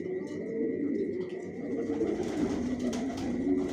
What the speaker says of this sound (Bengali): মাশাআল্লাহ কোয়ালিটি দেখুন, টপ কোয়ালিটির কবুতর পালি।